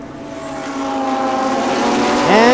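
Racing cars at the start of a Thailand Super Series race at Chang International Circuit give a rising engine drone that swells steadily over about two seconds, ending in a sharp upward rev sweep.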